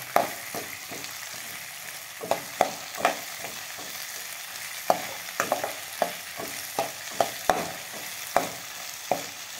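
Onions frying in a pan for uppitu, a steady soft sizzle punctuated by repeated sharp clicks of stirring against the pan, close and without talking.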